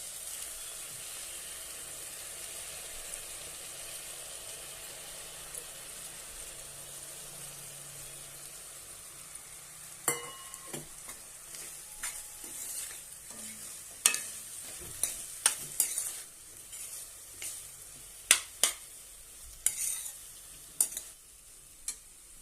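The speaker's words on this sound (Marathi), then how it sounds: "आता यामध्ये आपण तांदूळ घालूया।" Washed rice for methi pulao is tipped into a hot pan and stirred, with a soft sizzle and scattered sharp scraping clicks of a spoon that grow busier in the second half, close and alone without talk.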